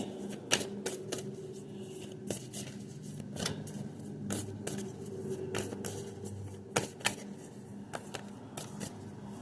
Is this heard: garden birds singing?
no